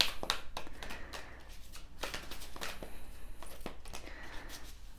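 Tarot cards shuffled by hand in a quiet room for a pick-a-card reading, giving a soft, steady papery riffling and shuffling with repeated light slaps of the cards as the deck is worked through.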